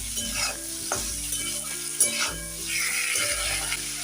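Vegetables with a pinch of salt and a few cashews frying in a pan for a gravy dish, a steady close sizzle with spatula stirring and scraping clatter throughout.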